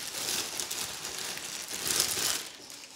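Continuous close crinkling of a thin plastic packet, bright and rustly, steady for a few seconds with no talking.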